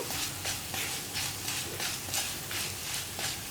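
Ground spice powders stir-frying in a generous amount of coconut oil for a chickpea curry, a steady close sizzle with rhythmic stirring scrapes about every half second.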